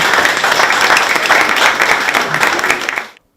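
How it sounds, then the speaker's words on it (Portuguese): Audience at a book launch about Bonga Kwenda giving the author a round of applause, dense sustained clapping from a full room that cuts off abruptly at the end. "peço também uma salva de palmas"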